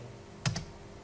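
Keystrokes on a computer keyboard while entering a drawing command, two quick taps close together standing out briefly against a quiet room hum.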